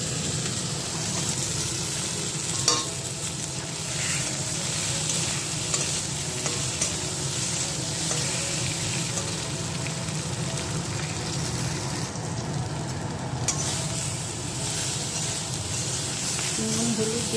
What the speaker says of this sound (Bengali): ডিম রান্না হচ্ছে বন্ধুরা, আলুতে ডিমের ঝোল।